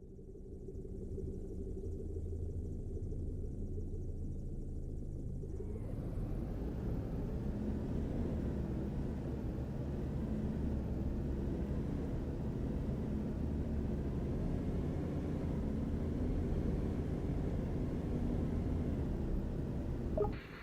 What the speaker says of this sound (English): Hop back in the tug and head over to the aircraft as indicated.